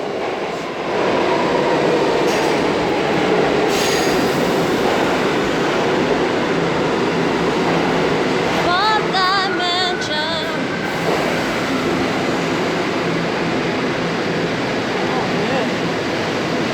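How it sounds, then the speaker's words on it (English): A train pulls in and runs on, a loud continuous roar and rumble of wheels on rails with high squealing brake screeches partway through, heard up close from a platform with no speech. "I'm waiting till I get on the train."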